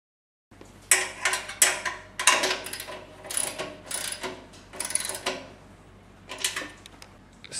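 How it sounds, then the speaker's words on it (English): A wheel axle assembly is bolted onto a generator with four short bolts, giving a series of loud metallic ratcheting bursts in irregular runs. The bursts come close up, with brief pauses between them. "Next step is to mount the wheel axle assembly using the 4 short bolts supplied."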